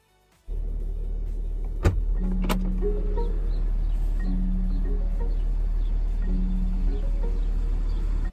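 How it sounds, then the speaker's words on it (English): Electric door handle working on a Lincoln Aviator SUV, a few soft motorized whirs and tones repeating over a steady low cabin hum, with a brief click near the start. "check out the electric operation of this door handle"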